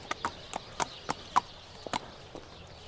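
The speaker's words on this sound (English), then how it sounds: "Here, Anna, come grab your horse." Horse hooves clip-clop at a walking pace on a racetrack for a thoroughbred race, about ten distinct sharp strikes in an uneven rhythm, fairly close and clear over a quiet background.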